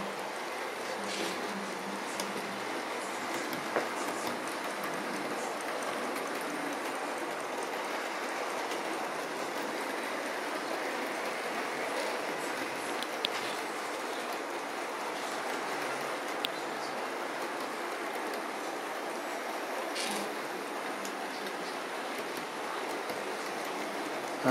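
Model Class 43 HST trains run around a layout, producing a continuous close rumble and rolling hiss with occasional faint clicks from the track.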